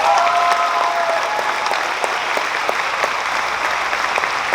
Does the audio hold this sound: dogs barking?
no